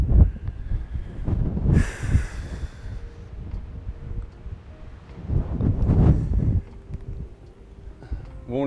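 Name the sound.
strong wind on a golf course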